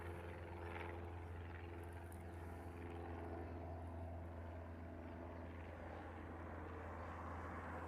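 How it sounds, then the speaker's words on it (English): A Boeing 747 jet airliner taxiing at Honolulu airport gives a steady, distant engine drone with a low hum and faint whine, held evenly and unbroken throughout. "We got one taxiing out currently, and we have one on the downwind."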